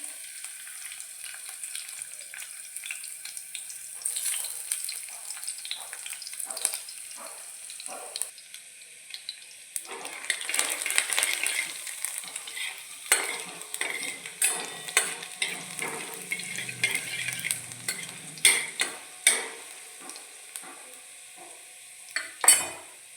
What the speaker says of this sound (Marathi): लसूण मस्तपैकी छान तळून घ्यायचं आहे